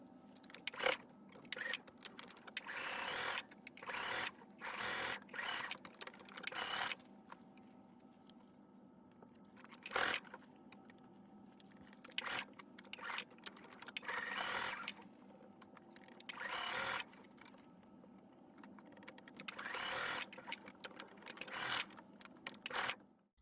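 A sewing machine stitches a fabric teddy bear's body and limbs in repeated bursts of fast mechanical whirring, stopping and starting with brief pauses between seams, close and fairly quiet.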